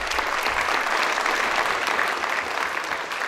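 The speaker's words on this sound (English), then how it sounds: "Are those claps what the responses of the professor?" A lecture audience at Kibabii University claps steadily in a dense, even wash of applause that holds loud from start to finish.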